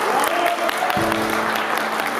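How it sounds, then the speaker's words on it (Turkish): Applause from a crowd at a Turkish disaster-relief platform gathering for the Elazığ earthquake response fills the moment, dense and steady throughout, with a brief tone or hum entering partway through. "bir alkış alabilir miyiz?"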